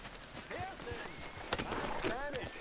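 Horse hooves clip-clop in Red Dead Redemption 2, a steady, moderately faint trotting rhythm mixed with game sounds while a person talks over it.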